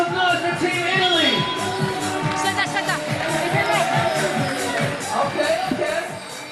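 A crowd cheers and shouts in an arena at a FIBA 3x3 basketball Olympic qualifying game, steady and loud with a lively hubbub, while a voice speaks over the noise.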